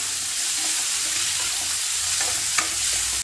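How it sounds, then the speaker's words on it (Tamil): Tomatoes sauté with onions and cashews in a hot pan, giving a steady loud sizzle with faint stirring scrapes and no voices. "இந்த தக்காளியும் நல்லா வதங்கி வரட்டும்."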